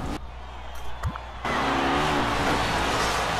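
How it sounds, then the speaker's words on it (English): In the NASCAR 21 video game, a race car spins out: a brief quiet lull with a faint swoop, then a loud, sustained engine roar that fills the rest of the moment. "He goes down to the bottom lane, and he will spin out"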